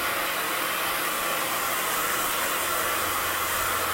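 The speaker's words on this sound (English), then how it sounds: "the heat from the blow dryer is going to really help activate that." A blow dryer runs continuously while drying thick hair, a loud, close, even whooshing hum of fan and airflow with no talking.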